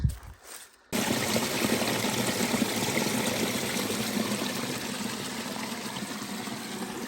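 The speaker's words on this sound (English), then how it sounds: "this water's flowing pretty well" Water in a mountain stream along the Pacific Crest Trail runs steadily and fairly loudly, a continuous rushing trickle that cuts in abruptly after a brief quiet moment and carries on without any voices.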